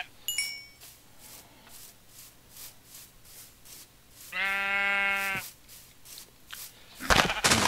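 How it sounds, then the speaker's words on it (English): Minecraft sheep let out one clear, drawn-out bleat in the middle, loud against a backdrop of soft in-game clicks and footsteps, with a sharp burst of game noise at the end. "I'm gonna kill all you sheep."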